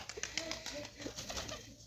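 Pigeons cooing softly while feeding alongside chickens in a noisy outdoor setting, low warbling calls repeating under steady background chatter.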